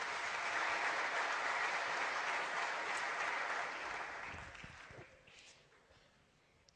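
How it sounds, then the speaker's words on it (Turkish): An audience at a poetry competition claps steadily and fairly loudly, the applause gradually thinning and fading out toward the end into near quiet. "Kuvvetli alkışlıyoruz."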